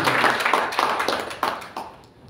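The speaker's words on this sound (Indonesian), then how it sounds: "Kasih tepuk tangan dulu." A church congregation at a Tegal worship and ordination service claps briefly, a handful of loose irregular hand claps that quickly thin out and fade within a couple of seconds.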